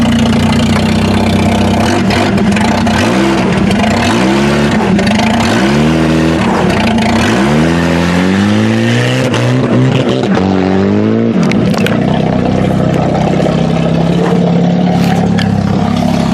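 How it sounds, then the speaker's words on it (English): A Buick's engine runs close and loud after a cold start in snow, its pitch rising and falling in repeated revving swells before settling to a rough steady idle. "Well, if that's not a cold start, I don't know what is."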